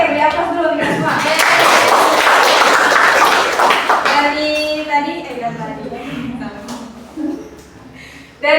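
A classroom of students applauding together after a group presentation, a dense wash of clapping that swells for about four seconds and then thins out as scattered voices and chatter take over.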